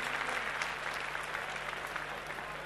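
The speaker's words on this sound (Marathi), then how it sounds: "औरंगाबादच्या उपविजेत्या संघासाठी आपण एकदा जोरदार टाळ्या वाजवूया" A hall audience at a Mangalagaur competition prize announcement applauds the runner-up team from Aurangabad with steady, dense clapping from start to finish, moderately loud and a little distant.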